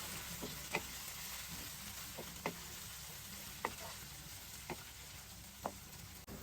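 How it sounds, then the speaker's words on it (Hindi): Tomatoes, ginger and garlic fry quietly in a pot with lightly browned onions for achar gosht, a soft steady sizzle broken by a few sharp stirring clicks spaced about a second apart. "अब इसमें हम डाल देंगे 2 टमाटर और ये अदरक और लहसुन, इनको भी हम थोड़ा सा फ्राई करेंगे।"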